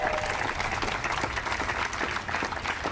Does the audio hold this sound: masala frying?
no